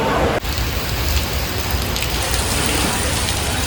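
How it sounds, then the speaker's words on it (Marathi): Heavy rain pours down steadily in Mumbai as a Ganesh idol procession arrives, a dense, loud, continuous hiss of drops striking surfaces close by, with no break throughout. "इथे खूप पाऊस पडतो आहे ते बघू शकतो"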